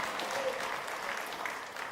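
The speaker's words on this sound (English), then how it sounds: "Give the Lord a clap offering in the house." A church congregation gives a clap offering during a combined worship service, producing a steady, even wash of many hands clapping at moderate loudness from start to finish.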